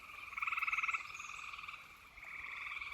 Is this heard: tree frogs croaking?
yes